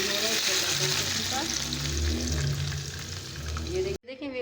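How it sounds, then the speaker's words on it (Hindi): Desi ghee tadka sizzles and crackles steadily in a hot pan, a dense loud frying hiss with some stirring, cutting off abruptly near the end as a voice begins. "मज़ेदार किस्म के देसी घी का तड़का रेडी हो रहा है"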